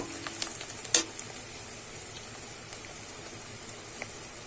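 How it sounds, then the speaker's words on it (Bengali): Onions frying in a pan for a Bengali bhetki fish-bone chorchori, a soft steady sizzle with a brief louder stir-clatter near the start and faint scrapes later, no talk. "পেঁয়াজটা কিন্তু আমি একটু লাল লাল করে ভেজে নেব"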